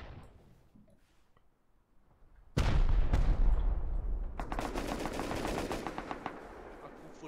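Automatic gunfire in the survival video game Rust: after a quiet, faintly muffled stretch, a sudden loud burst erupts into sustained rapid shots, then a dense stuttering volley continues to the end.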